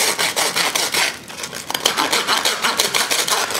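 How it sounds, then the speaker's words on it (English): Rhythmic scraping strokes of a serrated knife sawing through crisp sugar cones, repeated quickly and evenly up close with no voices. "I'm very delicately kind of sawing through the sugar cones"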